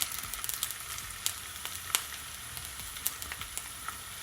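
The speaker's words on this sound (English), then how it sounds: "So now I'm just gonna add some of my onions." Onions sizzle and fry in a pot on a stove over medium heat, a steady close hiss dotted with frequent sharp pops and crackles, with no talk.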